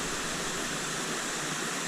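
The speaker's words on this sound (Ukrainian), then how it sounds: "послухати річку сходити подивитися водоспад" A steady, broad rush of flowing water from a river and the Shypit waterfall in Pylypets, constant and unbroken with no voices.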